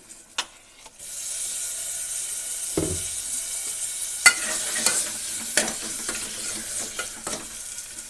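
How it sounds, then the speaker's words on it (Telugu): Chopped tomatoes drop into a pan of frying masala for a curry, setting off a steady sizzle that carries on with occasional scraping stirs and clicks close by. "ఇప్పుడు ఇందులో కొంచెం కట్ చేసుకున్న ఈ టమోటాలను వేసుకుందాం."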